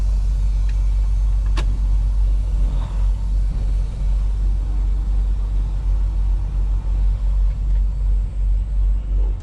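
A semi truck's diesel engine rumbles steadily and close as the truck pulls away, a deep constant drone with slight rises in revs and no talk.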